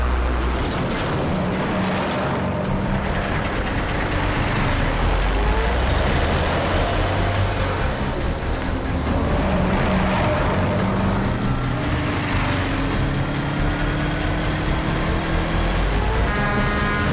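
Dense, continuous road traffic with cars, buses and trucks in a busy street scene where a car is driven recklessly; engines drone steadily throughout, with hissing brakes and passing vehicles layered loudly and no break.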